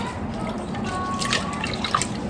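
Lentils being rinsed in water in a pressure cooker pot at a home kitchen, soft trickling and sloshing with a few drips and light splashes, close and quiet.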